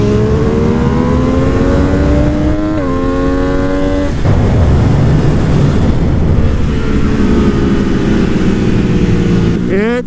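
MV Agusta Dragster 800 RR motorcycle accelerating hard in second gear in race mode, a loud, close engine note climbing in pitch, a brief shift dip, then a long roaring pull with heavy wind rush.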